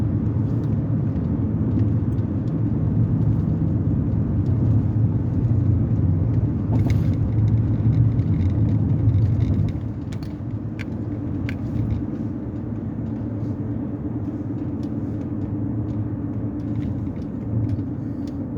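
A car driving through a road tunnel in Boston, giving a steady low rumble of engine and tyre noise that fills the whole stretch, with faint clicks and knocks inside the cabin.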